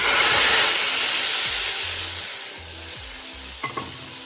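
Loud, steady sizzling and hiss of hot oil tempering hitting a pot of kadhi pakora curry, with a spoon scraping and clinking as the mixture is stirred; no voices.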